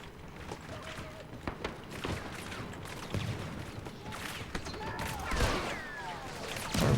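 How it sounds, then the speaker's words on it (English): Rapid bursts of blaster gunfire crackle through a Star Wars Battlefront 2 multiplayer battle, mixed with running footsteps and mechanical clatter, building toward a louder burst at the end. "I really don't want to run into that gunfire."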